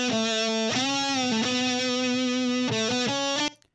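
A distorted electric guitar plays sustained notes and a few quick note changes, dry with no echo, cutting off abruptly at the end.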